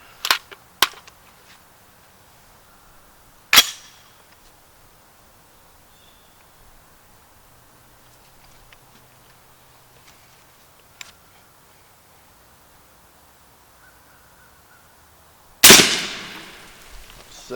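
Subsonic 240-grain rounds fired through a rifle with a Liberty Cosmic suppressor: sharp muffled cracks, a quick pair, then a single shot, a faint one later, and a final loud report with a short decaying tail, separated by long quiet gaps.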